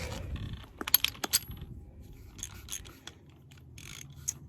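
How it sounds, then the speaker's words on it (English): A regular ratchet turns on an RV trailer's lug nuts, giving a quick burst of close metallic clicks followed by softer scraping and intermittent rasping turns under quiet background noise. "I've got my regular ratchet over there, so regular ratchet here."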